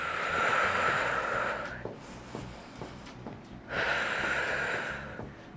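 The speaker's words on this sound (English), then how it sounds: "Deep inhales, deep exhales." Two long, deep breaths, each a steady airy inhale-exhale lasting nearly two seconds, with a quiet gap between them, taken during a seated at-home strength workout for seniors; no talking.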